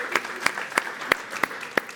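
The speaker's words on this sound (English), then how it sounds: "Round of applause for her" Slow, evenly spaced hand claps from an audience at a sim racing masterclass ring out, about six sharp smacks in two seconds, fairly close and moderately loud.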